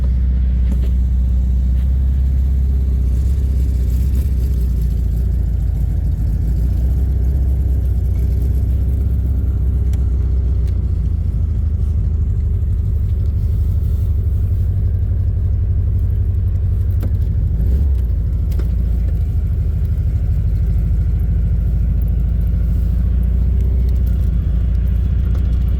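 A 1967 VW Beetle engine idles steadily after a cold start in 8°F weather, a loud, continuous low rumble heard up close with no talking.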